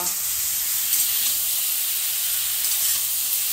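A pan of potato and cauliflower curry cooks with a steady, even sizzle and hiss that holds at a constant level throughout, with no voices.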